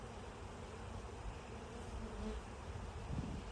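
Dense swarm of honey bees crawling over a naturally drawn frame of capped brood, a steady, close, low droning buzz that holds without a break, with no one speaking.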